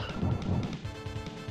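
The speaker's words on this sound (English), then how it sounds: "the skeletons shatter, chat. And they make an amazing noise when they do." Skeletons shattering in a 1994 retro video game, a loud crashing smash followed by ringing, rattling debris, heard alone without talk.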